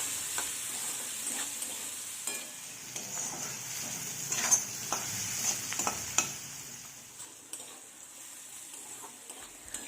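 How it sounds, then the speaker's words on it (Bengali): Onions frying over a medium flame in a pan for a Bengali bean mash, a soft steady sizzle with scattered faint stirring clicks and taps, fairly quiet and with no voices. "মিডিয়াম ফ্লেমে পেঁয়াজটাকে ভাজতে ভাজতে যখন এরকম বাদামি হয়ে আসবে"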